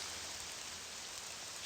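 Steady rain from the Morrowind video game, a dense continuous hiss of falling rain on surfaces, fairly loud and even throughout with no voices.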